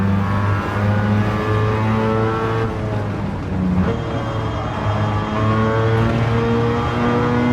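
Race car engines roaring in a racing video game, steady loud harmonic drone with pitch climbing and dropping through gear shifts, a brief dip mid-clip before revving again amid traffic.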